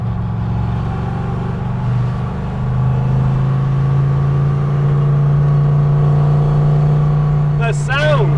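A 1996 AC Cobra MKIV sports car engine drones steadily with a low, sustained hum that swells slightly in volume as it accelerates, loud and close throughout, with a brief whine near the end.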